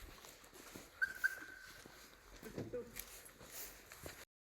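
A dog out in the dark at night in a jungle setting gives a couple of faint whimpering cries, distant and quiet, amid soft rustling and footsteps.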